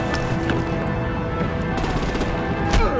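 Gunfire in the Batman: The Enemy Within video game, a steady dense clatter of shots throughout under a busy mix.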